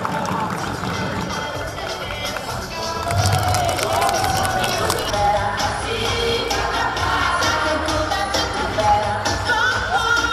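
A school audience at a lycée creative-challenge show in Riom cheers and claps, the crowd noise swelling into a dense, sustained roar partway through and holding steady, with voices mixed in.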